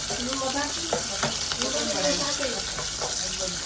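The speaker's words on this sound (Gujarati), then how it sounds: "મરચાં તળાય મરચાં." Chillies crackle and sizzle in hot oil with a steady hiss and scattered pops, heard close up.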